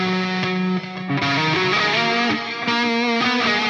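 A metal electric guitar played through a Line 6 HX Stomp with heavy distortion, delay and reverb rings out in loud sustained chords and single notes, with echoing tails filling the gaps.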